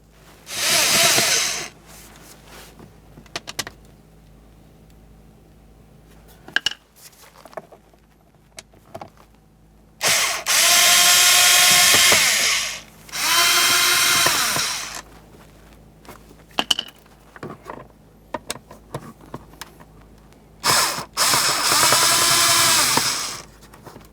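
A power drill backs out four Phillips head screws from the rear hatch cover of a 2009-2019 Ford Flex, giving several loud whirring bursts of a few seconds each, separated by quiet pauses and small clicks.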